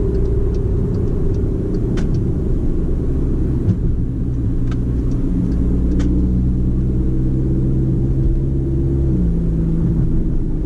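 Steady low engine rumble inside a Stage 2 tuned 2016 Volkswagen Jetta 1.4T under acceleration, a continuous droning cabin hum with a rising tone and a few faint clicks, no voices.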